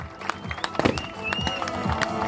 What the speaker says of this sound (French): On applaudit bien fort à toute l'équipe.